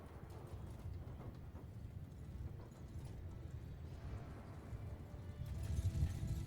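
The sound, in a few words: horse hooves galloping in video game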